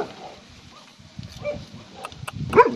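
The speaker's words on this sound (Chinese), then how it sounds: "小狗宝宝刚出生没几天" Newborn puppies only a few days old, kept at a rural dog rescue station, make faint squeaks and whimpers close by, with a brief louder squeal near the end.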